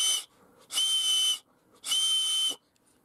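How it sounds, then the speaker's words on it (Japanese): Whistle on a McDonald's 2017 Happy Set Plarail toy train, sounding as a thin, shrill, airy tone in two long blasts after a brief opening toot, close and alone with quiet gaps between. "実は笛が吹くことが可能なんですよ"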